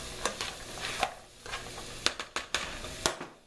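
Vegetables sautéing in olive oil for a spaghetti bolognese sauce, a low continuous sizzle broken by several sharp spoon-against-pan scrapes and knocks as they are stirred, close and fairly quiet.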